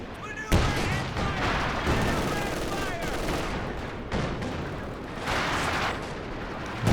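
Gunfire in the World War II strategy game Company of Heroes 2 crackles as a dense, sustained fusillade of rifle and machine-gun bursts with occasional heavier artillery thumps, under a commentator's voice.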